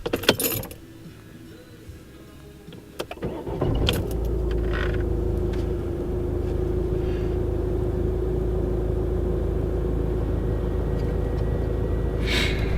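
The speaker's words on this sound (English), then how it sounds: "let's try to start it up." Keys jangle and the ignition clicks before a Peugeot 308 1.6 BlueHDi diesel engine cranks and starts, settling into a steady, close low idle heard from inside the car.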